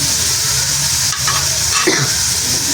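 Ginger and spices frying in a pan, giving a loud, dense, steady hiss, with a couple of brief stirring scrapes partway through, close up and without talk.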